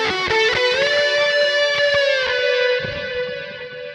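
Electric guitar lick, heavily processed with distortion, chorus and reverb: a few picked notes rise into a long sustained singing bend that rings and slowly fades, played alone and close.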